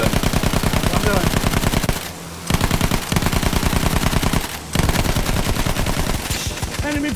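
A rear-mounted machine gun in Battlefield 1 fires long rapid bursts at an enemy Zeppelin, loud and close, broken by two brief pauses, with a voice talking over the clatter.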